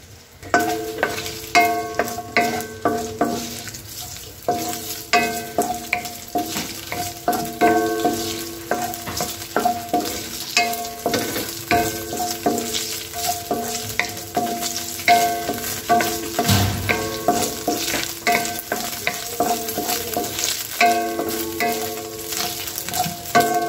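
Food frying in oil in a pan for a Filipino noodle soup with crispy bagnet, a steady close crackle and sizzle running throughout, with stirring clatter and utensil knocks.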